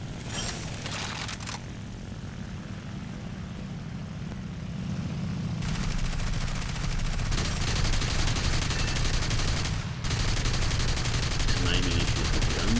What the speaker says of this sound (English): you'll notice there I triggered the machine guns first and waited till I saw the impact point on the MGs before I started firing the cannons